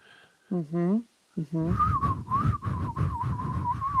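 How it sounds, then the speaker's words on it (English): Someone whistles a wavering tune up close, a few short notes and then a longer warbling line, with breathy sounds mixed in. "It's a terrible whistle."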